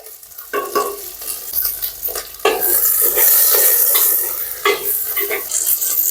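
Dried red chillies, seeds removed, frying and stirred in a pan for Kongu-style Pallipalayam chicken: a steady close sizzle with repeated scraping stir strokes and light clinks of a utensil against the pan, no talking.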